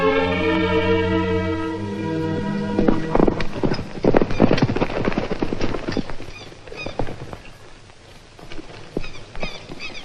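A spooked horse whinnies in a long, shrill neigh, then hooves clip-clop in quick, uneven beats that fade somewhat, with faint background ambience and no clear talk.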